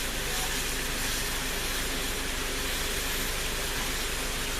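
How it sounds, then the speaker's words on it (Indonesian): Water with palm sugar, bruised ginger and lemongrass boils in a pot, giving a steady, dense bubbling hiss that holds even and unbroken throughout. "Kita akan rebus semua bahan ini hingga mendidih."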